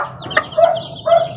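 Chicks newly hatched from a white hen's clutch give repeated high, thin peeping calls in short bursts, close by, with faint clucking from the hen underneath.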